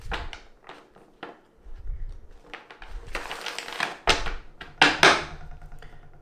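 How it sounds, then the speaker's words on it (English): A well-worn tarot card deck being shuffled up close, with repeated papery riffles and soft bursts of card noise, a few louder snapping shuffles near the end, with no talking. "one more shuffle"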